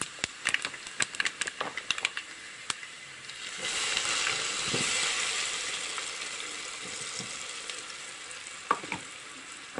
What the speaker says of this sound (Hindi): तो जीरे को भूनना है अच्छी तरह से